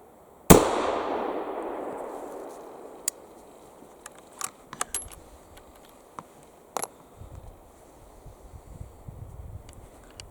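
Single loud gunshot from a .44 rimfire drop-breech rifle fired outdoors, a sharp crack followed by a long decaying echo, then scattered faint clicks and small knocks with no talking.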